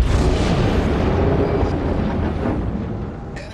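Enemy battleship exploding and sinking in the naval game World of Warships: a loud, deep, rumbling blast that roars and slowly decays over a few seconds, followed by a faint sharp click near the end.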